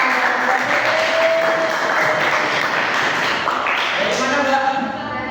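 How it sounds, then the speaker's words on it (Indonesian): A class of students applauds a classmate in a classroom lesson, a steady clapping patter throughout, with voices and a tonal sound heard faintly beneath it. "Tepuk tangan dulu buat Aisyah."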